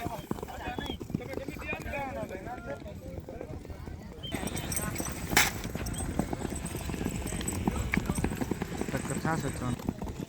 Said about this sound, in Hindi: क्योंकि काफ़ी घोड़े आए हैं।